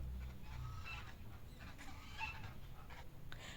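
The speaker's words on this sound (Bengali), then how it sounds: "এখানে হাঁস আছে দেখো" Ducks calling in scattered honks and quacks at an ashram, somewhat distant, over a low rumbling background.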